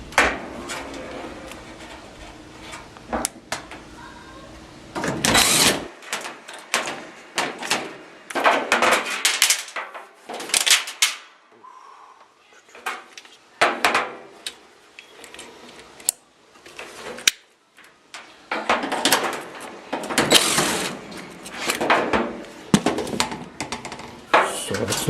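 Screws go back into a Frigidaire dryer during a no-heat repair, heard as bursts of clicks, scrapes and metallic handling noises separated by quiet gaps, close by with no talking.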